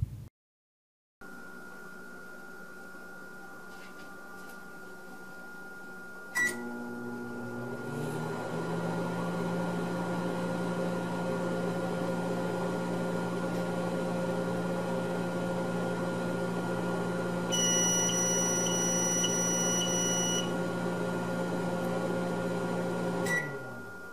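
A microwave oven hums steadily after a click, its motor and fan droning at an even level, with a faint high electronic whine partway through.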